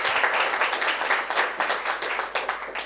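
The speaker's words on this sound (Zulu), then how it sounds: "Ngicela simshayile ihlombe bengingekho" A gathered audience claps and applauds at a Shembe church celebration, a dense, steady crowd clapping that keeps an even rolling rhythm for the whole stretch, with little talk heard.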